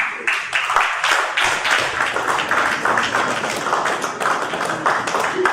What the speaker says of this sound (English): And a huge round of applause, everybody.